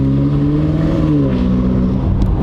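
A 2019 BMW M5 Competition fitted with Armytrix downpipes drones steadily through its exhaust, a loud, continuous engine note with slowly shifting pitch while cruising outside sport mode, without pops or backfires.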